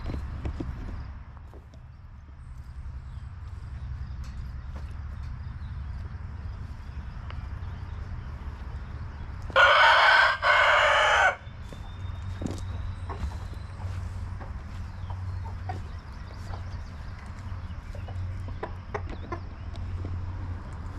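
A rooster crows once, loud and close, in the middle of a quiet farm scene, with faint scattered clucks from chickens and a low steady background hum around it.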